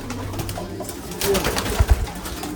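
A male racing pigeon coos a few low, soft notes close by, the calls growing a little louder toward the end over faint background noise.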